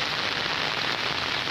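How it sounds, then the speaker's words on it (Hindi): Steady monsoon rain hisses loud and dense, falling continuously on surfaces with no talking. "मानसून सत्र भी चल रहा है और बारिश लगातार चल रही है।"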